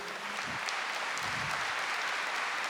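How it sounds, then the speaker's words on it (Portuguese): A church congregation applauding during a Catholic service, a dense, steady wash of clapping that holds evenly throughout, with faint voices underneath. "pode aplaudir"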